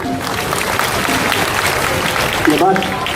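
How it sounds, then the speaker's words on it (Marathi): Audience applause at a Annabhau Sathe birth anniversary celebration, a short burst of continuous clapping with voices mixed in. "टाळ्यांचा आवाज जरा जोरदार होऊ द्या."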